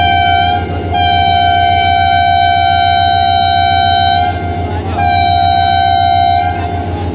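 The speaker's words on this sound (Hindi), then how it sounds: "डिपार्चर विसल भी हो गया है।" A long train whistle or horn sounds loud and close at a station stop in Sindh, holding a steady harmonic tone for about four seconds, breaking briefly, then sounding again over a low idling rumble.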